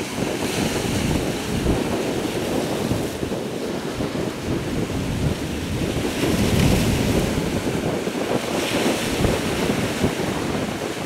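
Sea waves churning as a storm cloud rolls in on open water near the shore, a loud, continuous roar of surf and wind buffeting the microphone, with no talking.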